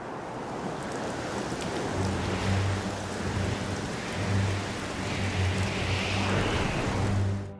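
Steady rain pours in Xenoblade Chronicles 2, a dense wash of hissing drops with faint low rumbling swells underneath, continuous throughout and without speech.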